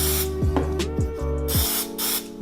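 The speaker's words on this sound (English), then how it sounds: "First off, we're gonna spray down the barrel." Cleaning solvent is sprayed into an FNX9 pistol barrel in several short, sharp hissing bursts close up, with low hum in the background.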